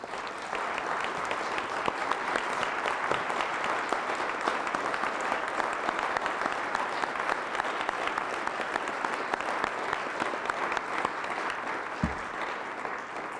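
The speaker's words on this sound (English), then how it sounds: "I invite everyone to join me in a round of applause for their outstanding contributions" An audience at an environmental protection committee awards ceremony applauds the standing nominees with long, sustained, even clapping from many hands that continues without a break.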